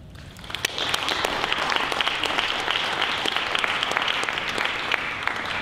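Audience at a community learning panel event claps for the panelists, a full, even burst of applause that starts abruptly and stays steady and fairly close.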